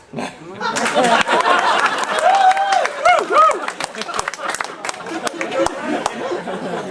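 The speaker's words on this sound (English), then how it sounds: "Hold for applause." Wedding guests at a best man's speech break into loud, sustained clapping and applause, with chatter and some laughter mixed in, all close and filling the room.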